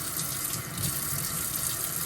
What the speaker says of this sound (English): I'll swirl it around and turn on my water